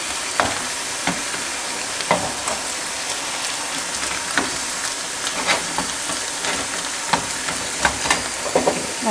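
Green banana dish for Ugandan cuisine frying in a pan, a steady loud sizzle and hiss with scattered stirring clinks and scrapes throughout.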